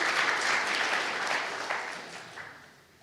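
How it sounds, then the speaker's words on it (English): Audience applause at an LPG industry summit, a dense wash of clapping from many hands that is loudest at first and then slowly thins and fades away. "You may clap again."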